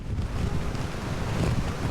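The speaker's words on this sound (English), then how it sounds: "If you stand in the wind, the rain, it hurts your face." Strong wind with rain lashing down during Hurricane Debbie near Steinhatchee, Florida, with floodwater from an overflowing river; a steady, loud roaring buffet of gusts against the microphone, continuous throughout with no voices.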